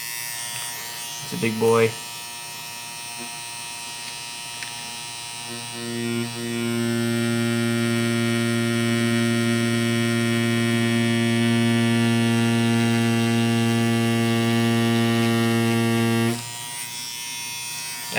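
An INKin Flexo cordless tattoo pen machine runs with a steady, loud electric buzz and hum for about ten seconds, starting and stopping abruptly, with a brief voice speaking before it starts.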